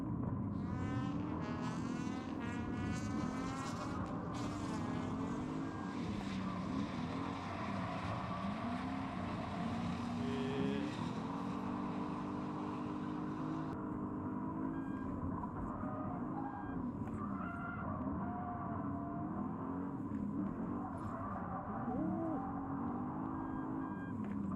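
A Lexus engine revs and accelerates during a drift test drive, its droning tone rising and falling in long sweeps, with brief higher squeals early on, all heard steadily from inside the car.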